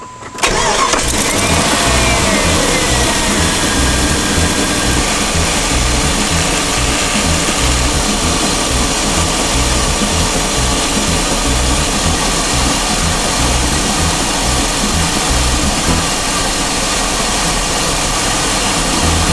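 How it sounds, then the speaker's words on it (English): A Jeep/Dodge 4.7L engine cranks and catches during a coolant refill after water pump replacement, then settles into a loud, steady idle with a rhythmic low throb that continues without pause. "Now I'm gonna start the engine and continue filling"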